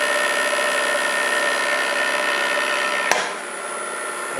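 An electric lathe motor in a home shop hums steadily with a high whine, then a sharp click is followed by the tone dropping to a quieter, lower drone.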